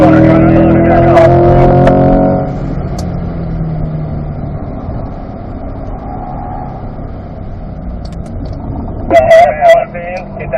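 A C8 Corvette pulls hard on track at Spring Mountain Raceway, its loud engine note strong for the first couple of seconds before settling into a lower steady rumble, with a voice speaking near the end.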